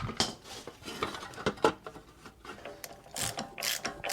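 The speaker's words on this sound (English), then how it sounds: "Digital torque wrench." A digital torque wrench ratchets on the axle nut of a 510 hp V12 Mercedes, giving quick repeated metallic clicks and clatters at close range with no talk.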